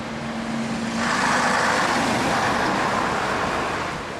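Street traffic in London on Route 38, with a Craven-bodied RT bus and Routemasters heading south: a steady roar of engines swells as a bus passes close by, then fades slightly, with no voices.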